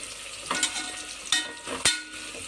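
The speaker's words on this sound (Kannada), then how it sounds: "ಸ್ವಲ್ಪ ಒಂದು ಕಂದು ಬಣ್ಣ ಬರುವವರೆಗೆ ಅದನ್ನು ಫ್ರೈ ಮಾಡ್ತಾನೆ ಇರಬೇಕು." Onions frying toward brown for chicken gravy, a quiet steady sizzle broken by three sharp spoon scrapes against the pan.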